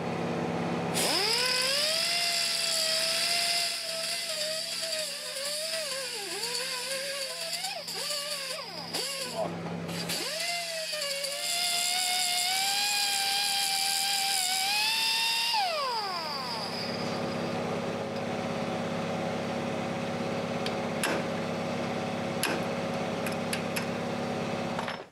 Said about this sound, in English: we just had to keep grinding at it till I got into smaller pieces that I could break off